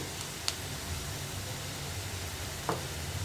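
Chopped onions sauté on a high flame for a tomato fish curry, giving a soft, steady sizzle with a couple of faint clicks and no voices.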